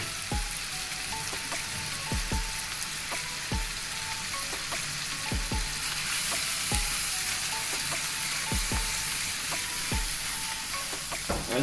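Big prawns fry in butter and garlic with a constant bright sizzle, while a spatula knocks and scrapes the pan in regular taps every second or so, close and clear with no talking.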